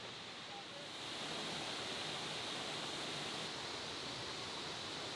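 A waterfall high up at Haleakala, Maui, pours in a steady, dense broadband rush that holds at an even level throughout, with no distinct voices standing out.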